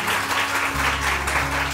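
Brief burst of studio audience applause on a Pakistani morning TV show, steady and close, with a low hum underneath.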